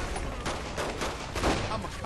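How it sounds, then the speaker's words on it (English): Rapid bursts of gunfire from the video game Saints Row The Third rattle through the whole short stretch, dense and fairly loud, with voices faintly underneath. "Yes, that's why I'm shooting you."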